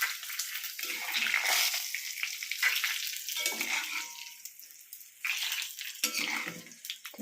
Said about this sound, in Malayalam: ആദ്യം ആ കടുക് പൊട്ടിയതെല്ലാം കൂടെ